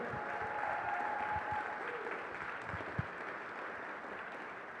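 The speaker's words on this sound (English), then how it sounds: "just go ahead and clap a little now" Light, scattered clapping from an audience at a NASA Artemis symposium, a soft continuous patter in a large room with a faint tone and one sharper clap near the end.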